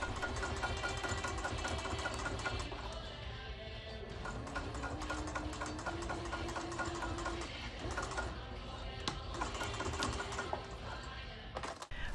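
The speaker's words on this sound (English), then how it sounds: "you're going to stitch them together along the top part using the seam allowance that is listed in the pattern instructions" A sewing machine stitches shoulder bag pieces together along the top seam, its motor whirring and needle tapping in a rapid continuous run, close and steady, without talk.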